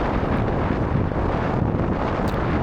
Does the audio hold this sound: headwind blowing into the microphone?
yes